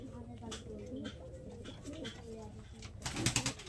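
Laldom and Kaldom pigeons coo in repeated low phrases against a busy background, with a louder burst of noise near the end.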